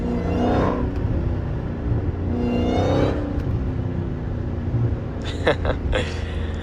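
A loud Dodge Hellcat accelerates hard on wet roads, its exhaust roaring in two long surges before a few sharp pops and crackles near the end.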